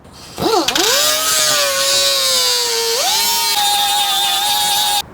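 A high-pitched power tool spins up and cuts into a plastic intake piece being trimmed for taller injectors on a Jeep JKU supercharger install, whining steadily up close with a pitch rise partway through before shutting off.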